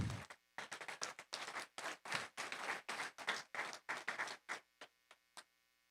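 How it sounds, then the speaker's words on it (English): Families applaud at a summer high school graduation ceremony, loud bursts of many hands that keep cutting in and out, then thin to a few scattered claps near the end over faint hum. "Give them a round of applause,"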